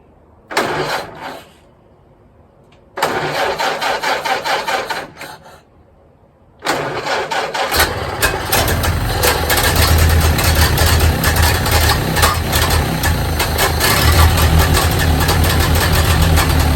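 A 1929 Ford Model A Tudor engine with a Zenith carburetor cranks in two short bursts separated by pauses, then catches on the third try and settles into a loud, steady idle that rumbles and rattles close by, with no voices.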